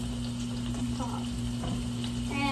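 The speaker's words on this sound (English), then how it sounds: "Now that I've got my roast browning" A roast browns in a hot pan with steady, close sizzling and scattered crackles and pops over a constant low hum.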